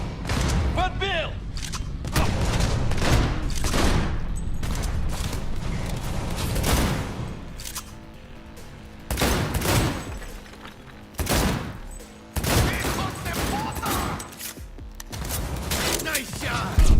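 Gunfire from the video game Cyberpunk 2077 rings out in loud bursts and rapid volleys with heavy booms and brief lulls, while a voice talks over the action.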